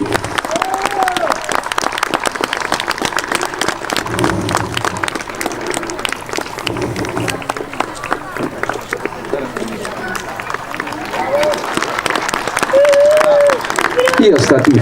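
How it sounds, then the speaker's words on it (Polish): A crowd outdoors at a commemorative ceremony applauds a parachutist's landing, with sustained clapping and murmuring. An announcer talks over it and a whistle-like tone rises near the end. "Szymon Chełmicki na ziemi, duże brawa."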